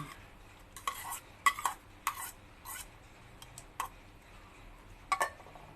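Spoon turning through a Thai minced pork and enoki mushroom salad with onion, shallot and spring onion, giving soft scattered scrapes and light clinks in short bursts against a quiet background.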